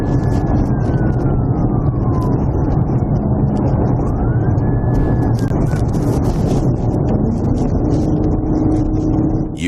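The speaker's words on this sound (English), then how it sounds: "Also be advised, I've got my siren back." A police car siren wails, sweeping up and down over loud engine and road rumble, continuous and close.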